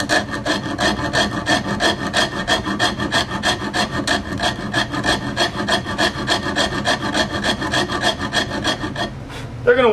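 Steady, rhythmic rasping strokes of a hand tool carving a wooden guitar neck, repeated rapidly and evenly throughout, with a brief pause and scrape near the end.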